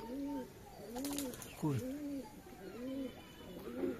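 Pigeons coo in repeated soft, throaty phrases, several overlapping calls close by, with a few brief wing flaps among them.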